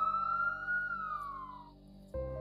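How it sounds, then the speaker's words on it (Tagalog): A police car siren wails loud and near, its tone rising then sliding down before cutting abruptly into a steady higher tone, with no voices. "bigla kong nakarinig ng malakas na sirena."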